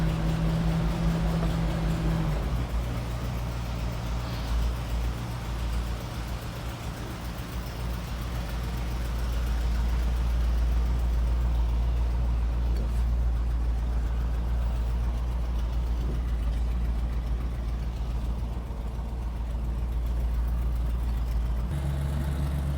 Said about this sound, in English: It's got a little bit of a high / lumpy idle when it's cold.